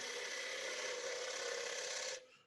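A lathe gouge cuts a dovetail into a spinning wooden bowl blank, giving a steady close rasping hiss for about two seconds that stops abruptly, leaving a short fading tail.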